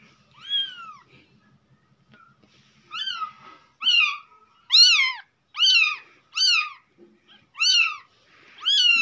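A cat meows over and over, loud and close, each cry a drawn-out rising-and-falling wail, with short quiet gaps between.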